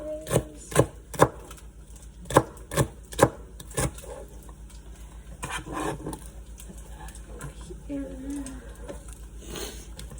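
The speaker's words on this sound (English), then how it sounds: "I'm just gonna chop that up diagonally" A knife on a cutting board slices a vegetable diagonally into bite-sized pieces for a stir fry, several sharp, evenly spaced close chops followed by quieter, scattered cuts and some kitchen handling.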